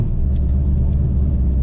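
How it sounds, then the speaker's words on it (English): Turbocharged LS engine in a Chevrolet Camaro race car with an exhaust leak, heard as a loud, steady, low rumbling drone with a rough, raspy edge, close and continuous with no talk. "I definitely have an exhaust leak now after that one"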